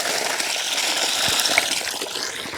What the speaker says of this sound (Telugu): కింద పక్కన గట్లో పొలం నీళ్ళు బాగానే వస్తున్నాయి.